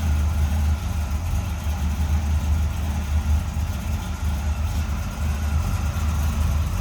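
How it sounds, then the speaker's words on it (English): A 1971 Chevrolet Nova two-door sedan with a 502 V8, aluminum GM heads, GM intake and HEI ignition idles with a steady, deep low rumble, close and continuous with no talking. "502 V8 underneath the hood. GM Performance engine, aluminum heads"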